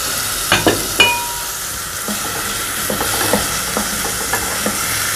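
Vegetables lifted out of white vinegar sizzle in a hot pan with a steady broadband hiss, broken early by a few sharp spoon taps and softer stirring knocks later, close and fairly loud with no talking.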